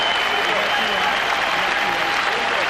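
Sustained, dense applause from an arena crowd of 21,000 at the Palace of Auburn Hills during the 1991 Bulls at Pistons playoff game, a steady roar of clapping filling the space without letup.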